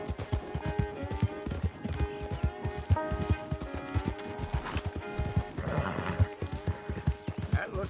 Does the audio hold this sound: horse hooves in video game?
yes